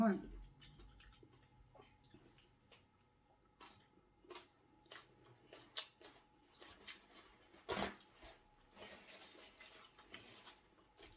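Crispy fried chicken being chewed close up, eaten with carrot salad: a series of irregular crunchy bites and soft mouth noises, with a few short vocal sounds between them.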